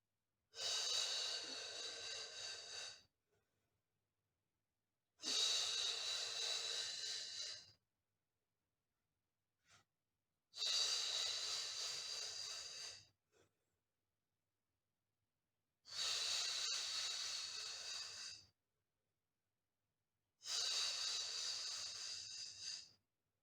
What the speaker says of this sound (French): On continue à respirer.